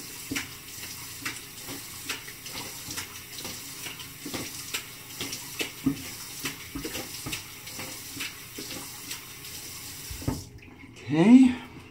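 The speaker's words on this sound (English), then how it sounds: "just have to wet my face up there a little bit" A bathroom tap runs steadily with water splashing under it for about ten seconds while the face is wet before shaving, then shuts off, leaving a brief rustle at the end.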